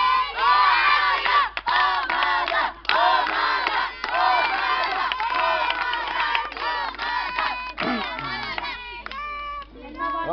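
Scout children cheer and shout together as a group during a quiz game, a loud, dense burst of many young voices sustained for about ten seconds before thinning out near the end.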